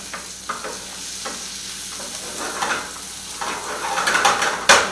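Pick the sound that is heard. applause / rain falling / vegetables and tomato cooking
vegetables and tomato cooking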